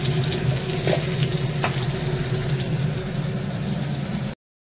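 Leafy greens fry in a pan for a home-cooked Assamese meal, giving a loud, steady sizzle and crackle with a low background hum, ending abruptly.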